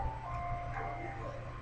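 An ice cream truck's jingle plays faintly outside, a thin melody carried from a distance under a quiet indoor background.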